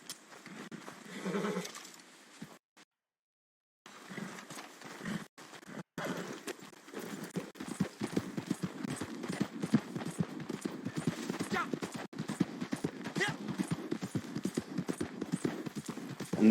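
Video-game horse in Red Dead's Guarma: a steady clip-clop of hooves that starts after a brief silence and keeps a close, rhythmic gallop to the end, with a whinny near the start.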